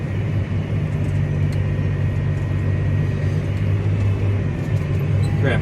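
Steady loud engine drone and mechanical hum from a John Deere S780 combine running across a soybean field, heard from inside, continuous throughout with no clear break for a gear change.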